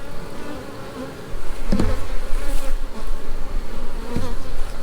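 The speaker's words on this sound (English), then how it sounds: "have you ever seen a honeybee that wouldn't sting?" A honeybee buzzes close by near a hive, a steady insect drone that swells and grows louder partway through and then holds on with no voices over it.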